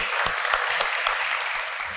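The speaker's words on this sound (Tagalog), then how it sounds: "Palakpak po mga kapatid." Wedding guests applauding right after the kiss at a ceremony in Subic, a steady wash of many hands clapping with a few sharper claps standing out, close and continuous throughout.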